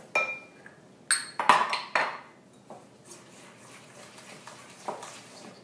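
Whisk or spoon quickly mixing an egg into cake batter in a bowl, with a few sharp clinks and scrapes against the bowl, then softer, sparser knocks.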